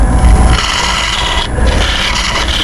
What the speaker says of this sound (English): Cedar don't like to be scraped on the end ring.